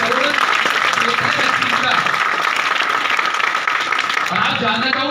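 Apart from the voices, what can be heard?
audience clapping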